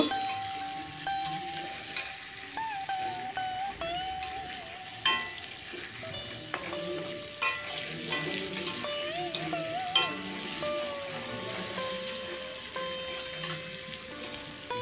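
Half-fried potatoes sizzle steadily in oil in a pan for a cauliflower curry, with a spatula scraping and stirring through them in irregular strokes, close up and with no talk.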